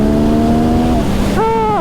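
A Yamaha MT-09 motorcycle revs loudly up close, its engine note climbing, then shifting gear and pulling higher again in a short, hard burst of acceleration.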